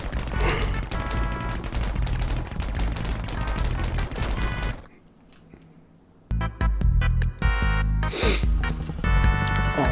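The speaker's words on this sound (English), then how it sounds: "The shotgun is so violent." Rapid, dense bursts of video game shotgun fire from a submarine game, loud and continuous, broken by a short quiet pause before the blasts resume.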